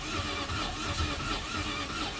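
A Toyota Wigo car with trouble starting, its engine cranking and turning over with a rough, pulsing mid-pitched churn, close and steady with no talking.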